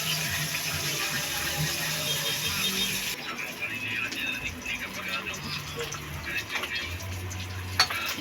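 Tilapia frying in a pan: a steady, close oil sizzle with occasional stirring scrapes and a brief clink near the end, while someone talks over the cooking.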